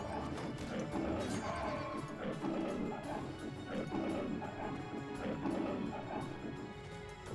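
A horse whinnies in Age of Empires amid a busy, dense mix of game sounds and clatter, with faint talking woven through the steady background.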